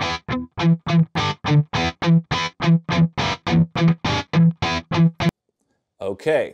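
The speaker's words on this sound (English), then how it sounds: "And so now the guitar sounds like this." An electric guitar runs through a gate opened by a beeping key input, chopping the sound into rapid rhythmic pulses of distorted tone that stop abruptly, followed by a short spoken word.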